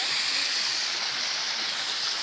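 Dense, even roar of a waterfall in Truskavets, Ukraine fills the clip, constant and close, with no other sounds.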